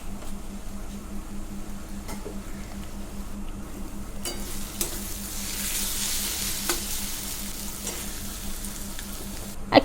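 Ginger-cumin paste and chilli powder sautéing in a pan for a prawn and ash gourd dish make a continuous close sizzle with occasional stirring clicks, steady throughout and with no voices.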